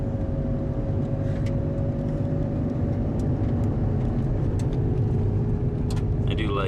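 Steady engine drone and road rumble from inside a car driving through a remote mossy glen, continuous and close throughout, with a few faint clicks.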